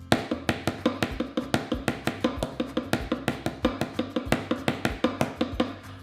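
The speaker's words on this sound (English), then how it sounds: "if you are practicing your paradiddles on the hi-hat and snare drum," Paradiddles played on hi-hat and snare drum as a quick, even stream of close, crisp strokes with regular accents, played alone with no talking.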